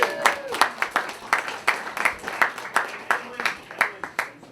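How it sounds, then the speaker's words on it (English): A small crowd in a cafe in Concord, New Hampshire applauds Alex and Revelstoke at a campaign event, with sharp individual claps in a loose uneven rhythm, close and distinct, while a faint voice carries underneath. "let's give Alex and Revelstoke a round of applause for letting us commandeer this whole place"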